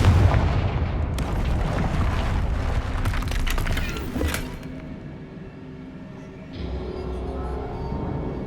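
Repeated Confringo fire spell blasts in Hogwarts Legacy, loud booming fiery bursts layered over a dense rumbling game soundscape, with a sharp crack near the middle and a quieter tail.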